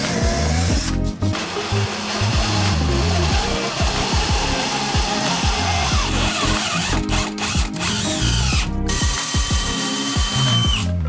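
Threads are cut into a hole with a tap during a wooden sailboat restoration, a loud, close, continuous power-tool whir that stutters and pauses briefly throughout.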